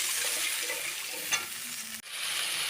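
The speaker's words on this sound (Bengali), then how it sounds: "দিয়ে মশলাগুলো সব মিশিয়ে নিচ্ছি।" Spices are stirred into warm water in a pan for rohu curry, giving a constant close hiss and bubbling sizzle, with one sharp utensil knock and a brief drop before the sizzle resumes.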